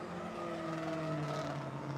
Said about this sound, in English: Licklider warming up his tires, the JAC Motorsports FRS